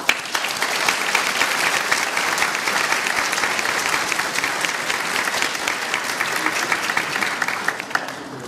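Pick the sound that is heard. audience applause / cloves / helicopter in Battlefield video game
audience applause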